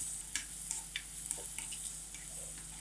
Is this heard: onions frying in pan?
yes